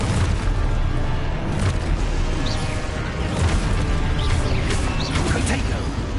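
A loud, dense blasting-spell explosion in the Hogwarts Legacy video game, a continuous rumbling boom with crashing debris filling the whole clip, with a voice faintly underneath.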